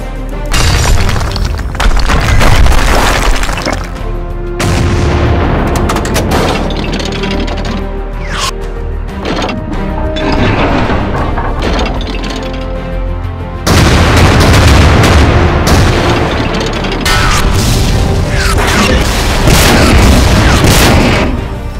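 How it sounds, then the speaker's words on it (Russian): Loud, dense game combat audio with repeated booming gunshots and blasts, layered over music and effects, sustained throughout. "Эти выстрелы бесполезны."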